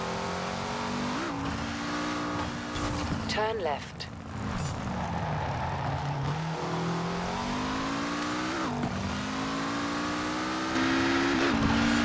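A car engine in the Forza racing game drones and revs through gear changes, rising and falling in pitch as it accelerates, with a brief tire squeal and a short spoken line over it.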